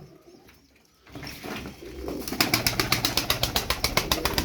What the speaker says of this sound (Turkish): elimde böyle 14 parça kuş var